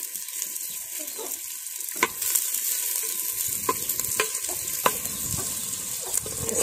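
Onion sizzles in hot coconut oil in a pan, frying fairly quietly while a spoon scrapes and knocks at intervals as it is stirred, with no voices.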